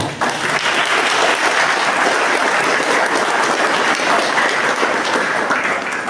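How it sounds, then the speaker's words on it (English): An audience at a high school and college function breaks into a big round of applause, dense and steady clapping from many hands that fills the whole stretch at close range. "A big round of applause for this movement."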